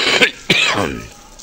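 A person gives two sharp, close coughs in quick succession, the second one rougher and trailing off into a brief throaty rasp.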